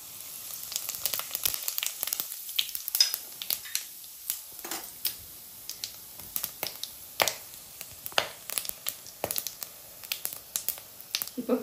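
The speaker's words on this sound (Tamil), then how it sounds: "சோம்பு, சீரகம், பட்டை, லவங்கம், ஏலக்காய் மொத்தம் ஒன்றா போட்டுடலாம்." Whole fennel, cumin, cinnamon, clove and cardamom dropped into hot oil, crackling and popping in sharp irregular bursts up close, with a steady sizzle underneath.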